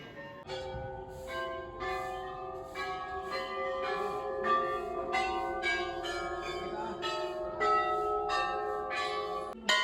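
Many metal temple bells ring and overlap in steady, resonant strikes at a temple in Uttarakhand, their long tones sustaining and blending throughout, fairly loud and close.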